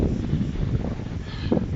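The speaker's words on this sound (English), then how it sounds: "as I said earlier, it's pretty windy today" Steady wind buffets the microphone outdoors on a blustery day during a backyard carport build, a continuous low rumble with gusts swelling and no voices.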